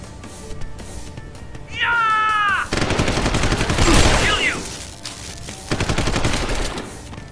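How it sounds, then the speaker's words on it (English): Bursts of rapid automatic gunfire from guards in Deus Ex: Human Revolution, fired in long loud volleys, with warbling synthetic tones and other game sounds before and between them. "One guard was shooting the other in the back, just because one got in front of the other."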